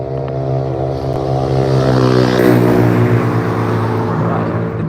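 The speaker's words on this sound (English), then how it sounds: "cars are a bit noisy" Steady engine drone of motor vehicles, loud and continuous with a slight swell midway, like cars passing close by on a road, with no talking.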